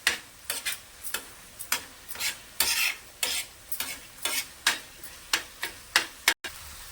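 A spatula scrapes rhythmically across a tava as masala for tava anda masala roasts in oil, with a dozen or so crisp, close strokes and a faint sizzle between them.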